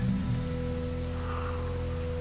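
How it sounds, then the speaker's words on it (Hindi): Heavy rain pours steadily on a stormy night, a dense, continuous hiss of drops striking surfaces close by, with no voices over it. "अभी भी बारिश बहुत तेज थी।"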